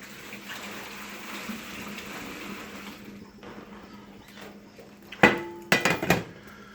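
Cooked pasta being drained from a Red Copper square pan, water running and splashing steadily, then a few loud clanks of the pan near the end, close up.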